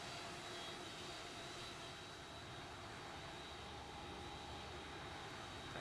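Airliner taxiing in the X-Plane 11 flight simulator, a steady faint jet engine hum and whine that holds level with no voice over it.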